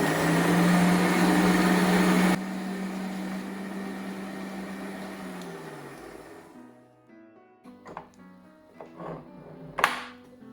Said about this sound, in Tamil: கொக்கோ மிக்ஸ் பண்ணதுனைக்கும் பீட் பண்ண போகிறேன்.